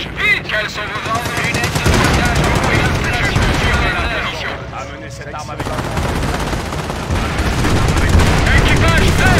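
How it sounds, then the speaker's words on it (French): Intense World War II gunfire in Company of Heroes, set during Operation Market Garden: sustained machine-gun bursts and rifle shots with heavy booms, loud and continuous, mixed with shouted soldier voices in French. "De quel côté viennent ces tirs?"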